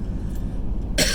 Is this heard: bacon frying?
no